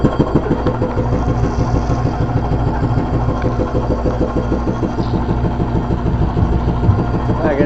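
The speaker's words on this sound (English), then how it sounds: "Got the surge pump in here for cleaning." Surge vacuum pump running in a milking room on a dairy farm, a loud steady rhythmic mechanical chugging throughout, with brief talk over it.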